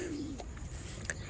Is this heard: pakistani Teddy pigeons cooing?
yes